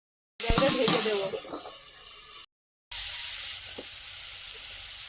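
Curry sizzles and fries in a pan, loud crackling at first that eases into a steady hiss, broken by a brief gap before the frying continues more softly.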